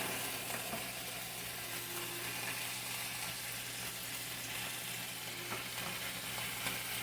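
Butter sizzles and fries steadily in a hot skillet alongside Italian sausages, a continuous close crackling hiss with no talk.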